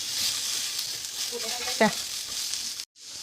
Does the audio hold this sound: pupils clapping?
no